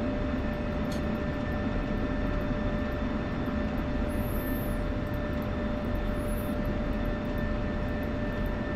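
An F-16C jet engine in the DCS World flight simulator runs as a loud, steady roar with a constant whine, continuous throughout with no pauses.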